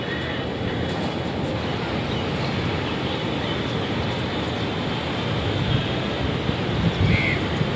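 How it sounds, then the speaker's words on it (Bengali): Sea waves roll and break continuously against the shore in Puri, heard from a hotel rooftop terrace, the steady roar mixed with wind buffeting the microphone during rainy weather. "একটার পর একটা ঢেউ এসে ধাক্কা মারছে"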